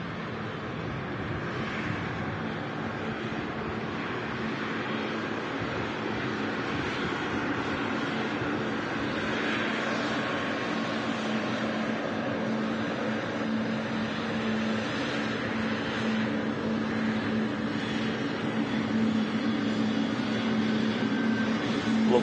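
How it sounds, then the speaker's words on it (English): A Qatar Airways Boeing 777 from Doha roars steadily at an airport, a broad continuous jet rumble holding at near-constant loudness from start to end with no voices. "Qatar Airways 777 from Doha. Another huge aircraft."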